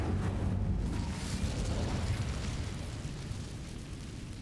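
Casting the Incendio fire spell in Hogwarts Legacy sets off a roaring burst of flame that rumbles loudly at first, then slowly fades into a low, steady crackling wash.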